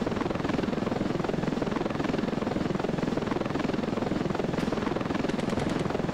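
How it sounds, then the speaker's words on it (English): A helicopter in the video game Ravenfield, its rotor thumping in a fast, steady rhythm over a continuous engine drone, loud and close throughout. "We're gonna survive this with our helicopter intact."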